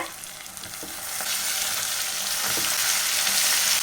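Washed mutton pieces frying in a pan with tomato, green chili, onion and ginger-garlic paste make a loud, steady sizzle that swells after the first second, with occasional stirring scrapes.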